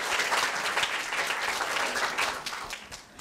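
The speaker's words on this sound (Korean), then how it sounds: "박수 한번 주세요." Audience of students, judges and parents at a middle school speaking festival at Korea University applauding, brisk steady clapping at moderate level that tapers off toward the end.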